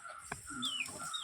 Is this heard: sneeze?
no